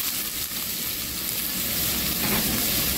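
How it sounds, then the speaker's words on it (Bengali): Chopped onion added to hot oil with cumin seeds, a loud dense sizzle and hiss that holds steady for a few seconds, close by and without talk. "সো আমি এবারে অনিয়ন চপটা ঢেলে দিলাম।"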